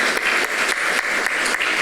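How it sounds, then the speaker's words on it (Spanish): An audience claps steadily after a panel talk at a literary conversation on Quechua publishing, a brief burst of applause from a room full of people. "un fuerte aplauso para la última intervención"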